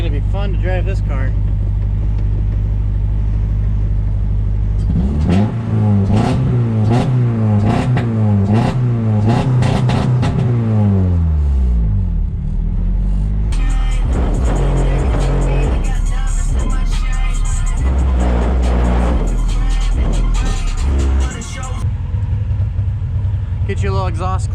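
Honda Del Sol with an H22 engine being driven: a loud, close exhaust note that revs up and down repeatedly, climbs through the gears and drops back, with a voice speaking over part of it.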